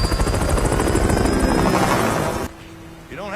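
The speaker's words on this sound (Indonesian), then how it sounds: "yaitu helikopter tempur Bell UH-1D" A Bell UH-1D combat helicopter, heard as loud, dense rotor chop and engine roar that cuts off abruptly, leaving a quieter hum and a short swooping tone.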